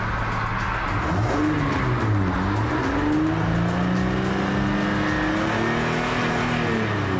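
The engine of a 2006 Honda Ridgeline with about 151,000 on the odometer revs up and down repeatedly, pitch rising and falling in smooth sweeps, loud and close.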